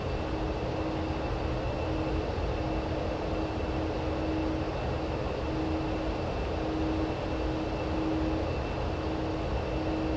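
Avro Vulcan B.2 jet engines at full thrust during a climb, a steady, dense broadband roar with a constant hum running unbroken throughout, no voices.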